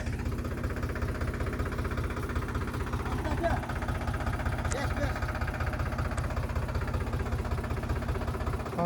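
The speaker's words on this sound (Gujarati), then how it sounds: "હવે ચાલુ થઈ ગયું ટ્રેક્ટર વાવવા માટે" A tractor engine runs steadily in a farm field, about to sow castor seeds, with a continuous close idling chug and a mechanical rattle throughout and voices talking over it.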